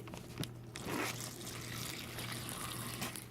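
A homemade non-toxic hygiene liquid mixture with oil stirred in is poured into a bag, giving a faint, continuous trickle and gurgle over a low steady hum, with a couple of soft knocks.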